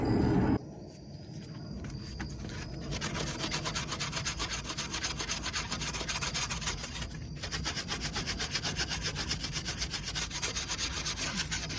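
Steady abrasive rubbing on a G-Body car's AC delete panel surface, smoothing it before new glue goes on; continuous close scraping strokes running for most of the time after a brief louder start.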